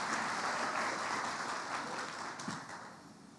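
A church audience gives a steady round of applause for the actors after a sermon skit, a dense, even patter of many hands from start to finish, tapering slightly at the end.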